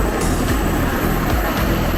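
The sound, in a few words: twin-engine propeller plane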